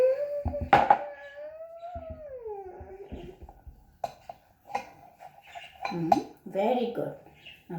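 Spoon clinks and scrapes against a pot while mushroom tikka is stirred, scattered light knocks heard close, with voices talking over and between them.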